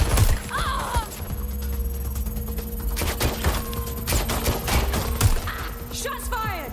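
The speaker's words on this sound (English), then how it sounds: "Shots fired!" Watch Dogs: Legion gunfight with rapid bursts of gunshots, sharp repeated cracks mixed with impacts and clatter, loud and close, with voices shouting at times.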